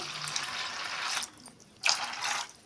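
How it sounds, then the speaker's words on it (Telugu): Water splashes and pours into a pot in short bursts, close by, with brief pauses between the pours. "ఇప్పుడు మళ్ళీ నీళ్ళు పోసుకోవాలి"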